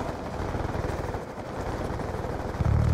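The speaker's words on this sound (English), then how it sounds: "Friendly stealth chopper inbound." Stealth chopper in the video game Black Ops 2, a dense rapid rotor thumping that holds steady for about three seconds with a low heavy burst at the end.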